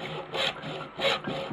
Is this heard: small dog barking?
no